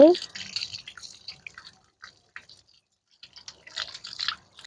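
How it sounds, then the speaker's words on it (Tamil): Purple tubers are rinsed by hand in water to wash off the soil, making close, intermittent splashes, drips and soft squishing sounds separated by quiet gaps. "இந்த மண்ணை நல்லா கழுவி எடுத்துக்கிடுவோம், மண் போகிறதுக்கு."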